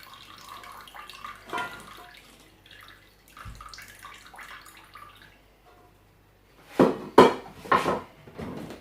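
Tap water runs while a blender is rinsed in a kitchen. A soft, low trickle continues throughout, then near the end come a few louder splashing surges as the jar is swished under the stream.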